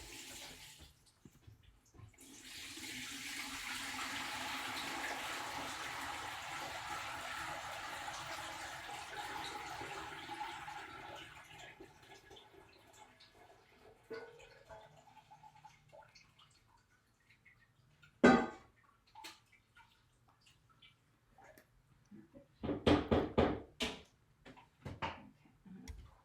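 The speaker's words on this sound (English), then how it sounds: "we're going to strain the rest of our dye" Onion skin dye liquid pours and splashes through a strainer into a pot, a soft rushing stream that swells and fades, followed by scattered drips, clinks and a few brief splashes near the end.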